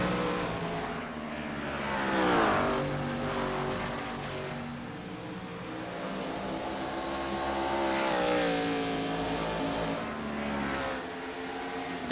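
IROC Challenge stock race cars roar down the backstretch at Rockingham, engines rising and falling in pitch as they pass, loud and sustained without talk.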